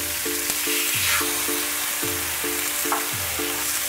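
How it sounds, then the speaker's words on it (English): Steaks hiss and crackle in a preheated, smoking oiled skillet, a loud continuous sizzle up close, with a repeating electronic beep pattern sounding over it and no talking. "Hopefully you hear the sizzle."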